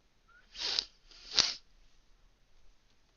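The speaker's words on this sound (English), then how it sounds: "I don't know why I started sneezing." Two sharp sneezes in quick succession, close and fairly loud, come from a painter working with Rose Madder Lake paint during a livestream, followed by quiet room tone.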